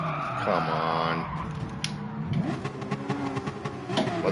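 A race car engine in Gran Turismo 7 revs out, rising and falling whines over steady engine drone with some tyre noise, at moderate loudness and no talk.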